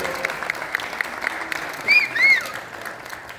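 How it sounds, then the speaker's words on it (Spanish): Theater audience at the Teatro San Rafael applauding the director, a dense, steady wash of clapping from a crowd throughout, with a couple of brief whistles rising over it midway. "El aplauso fuerte para nuestro director y escritor Francisco Oñacure."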